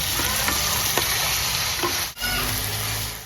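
Chopped godbela vegetables sizzle steadily in a pan of browned onions, a dense continuous frying hiss with a few soft stirring scrapes and a brief dip partway through.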